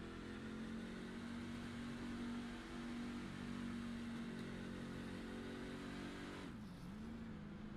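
A race car revs hard and pulls away from its pit stop, a loud steady engine drone held at high RPM for several seconds before a brief dip as it shifts and carries on.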